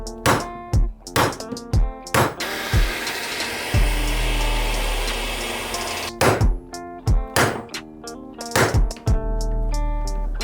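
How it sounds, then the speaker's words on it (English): An impact screwdriver is hammered to loosen a bolt on a 2020 Honda CR125 kickstarter. Several sharp, loud ringing metal strikes come in bursts, with a stretch of grinding noise between them. "As always, impact screwdriver to get this guy out."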